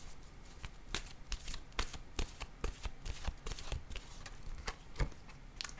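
Oracle cards are shuffled by hand in a quiet room, giving a run of crisp, rapid flicks and soft slaps, close and fairly faint, with no one speaking.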